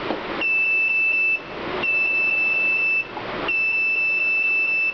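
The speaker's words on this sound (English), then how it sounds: "Now if at all I go for 1 and 2 again, I get like buzzers." A high electronic gear-position warning buzzer in a vehicle, triggered by shifting back to first or second gear, beeps in long, steady tones, three times in a row with short gaps between, loud and close.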